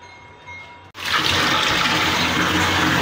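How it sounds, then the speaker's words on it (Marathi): Water poured into a cooking pot: after a short quiet start, a sudden loud, steady gushing splash begins and runs on continuously without any voice. "आता इथे मी पाणी घेते."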